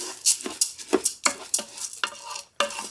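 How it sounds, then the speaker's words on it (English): Rice stirred in a little oil in a pan for Mexican rice, a spoon scraping and clinking in quick, uneven strokes, close and clear with a faint sizzle underneath. "we're just going to coat that rice with that little oil that's in there"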